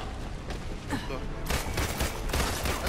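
Gunfire in Marvel's Avengers gameplay comes as a dense, rapid volley of shots that grows louder and fuller halfway through, with a voice talking over part of it.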